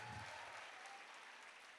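A college audience at an event claps for a fitness trainer in a brief, faint, continuous burst of applause heard from a distance.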